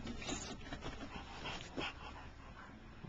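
An English bulldog puppy whimpers and yips nearby in short, high, whiny bursts over a few seconds, with no talk.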